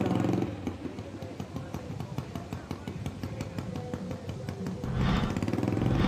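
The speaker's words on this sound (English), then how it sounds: "I can hear an exhaust in my ear right now that sounds like it's got no muffler" A loud motorcycle without a muffler, a Harley-Davidson at a hill climb, blares in a rough, rapidly pulsing exhaust rumble, swelling louder near the end.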